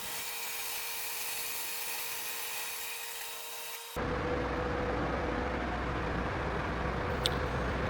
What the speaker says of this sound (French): Nous passons ensuite à la découpe des pieds à la scie à ruban.